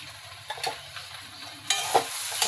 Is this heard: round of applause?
no